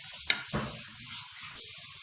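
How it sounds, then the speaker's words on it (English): Onions sautéing in oil in a pot for Nigerian asaro yam porridge: a steady soft sizzle broken by a couple of stirring scrapes, close and fairly quiet. "So I'm going to allow it saute for the onions, for the flavor to go into the oil."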